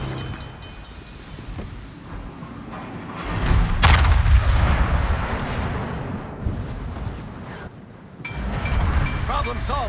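Yamato battleship main guns firing in World of Warships, heavy booming salvos rolling out with deep rumble, two big blasts a few seconds apart, under intermittent voice chatter.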